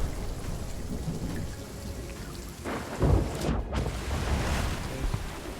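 Thunder rumbles and cracks through steady rain during a storm at sea in the pirate video game Sea of Thieves, with one sharp loud lightning strike midway over the constant downpour.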